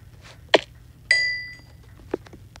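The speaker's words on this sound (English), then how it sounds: "That's the bell sound." A Minecraft bell rings once with a bright, clear tone that decays over about half a second, between a few short knocks and clicks.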